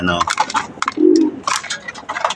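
Pigeons in a loft give a short, low coo that swells briefly and fades, close by, amid scattered brighter chirps and faint voices.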